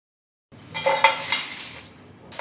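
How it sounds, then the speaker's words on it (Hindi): Dry biryani masala spices are stirred and roasted in a hot pan over low flame, giving a close, gentle scraping and sizzling rustle that starts abruptly and carries on steadily. "फ्लेम को लो रख के इसे चलाते हुए रोस्ट करें"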